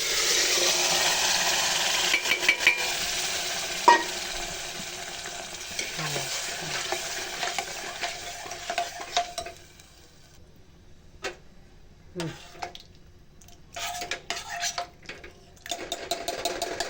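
Hot oil tadka sizzling loudly as chakvat greens are stirred in a pan, a steady close hiss with scraping stirs that dies down to quieter crackles and taps, then picks up again briefly.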